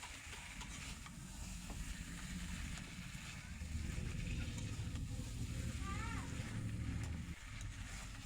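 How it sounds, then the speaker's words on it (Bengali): Potatoes and fish heads frying together in a pan, a steady sizzle with occasional stirring scrapes and a brief squeak, moderately close. "মাছের মাথাগুলো কষানো হয়ে গিয়েছে, আমি এখন আলু এর মধ্যে দিয়ে দিব। দিয়ে এখন ভালোভাবে কষিয়ে নেব।"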